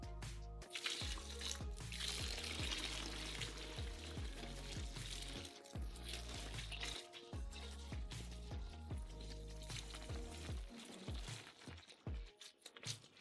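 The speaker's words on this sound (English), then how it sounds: "It remains to pour 8 liters of hot milk." Eight liters of hot milk pour for a huge batch of Snickers ice cream, a continuous liquid splash and trickle that runs under steady background music.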